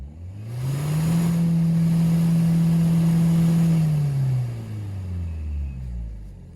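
A 2020 Citroën C5 Aircross's 1.5-litre 130 HDi diesel engine revs up quickly to 5000 rpm, holds a loud steady high-rpm drone for a few seconds, then winds back down toward idle.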